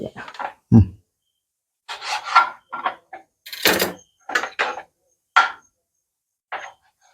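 A knife cuts fresh fish into finger-shaped pieces on a board, a series of short, close scraping and slicing strokes separated by brief pauses, with one dull knock.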